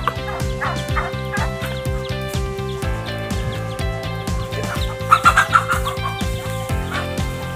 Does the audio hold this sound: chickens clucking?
yes